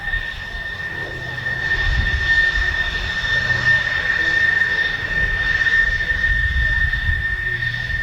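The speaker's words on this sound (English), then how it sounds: "You can hear that F-14 Tomcat running down there." A steady F-14 Tomcat jet engine whine with a sharp high tone holds over a low rumbling roar, sounding moderately distant and continuous throughout.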